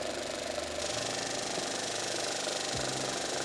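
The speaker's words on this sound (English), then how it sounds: "Now pump out the cleaner just below the sieve and close the pressure regulation valve." A KÖSTER 1C injection pump runs steadily while pumping out cleaner, giving a continuous mechanical hum with a faint rattle, close and even throughout.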